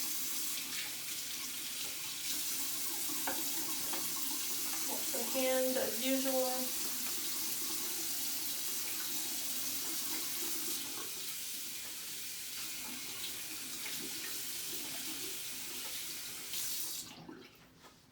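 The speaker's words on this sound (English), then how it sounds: "Let the water run." Tap water runs steadily into a sink during a hand wash with soap in a microbiology lab, a broad hiss under brief speech, with a rising gurgle as hands pass through the stream before it cuts off near the end.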